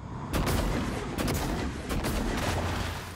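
Gunfire from the video game Prey (2017) fills the moment with loud, continuous bursts of rapid booming shots, heavy and close, with no talk over them.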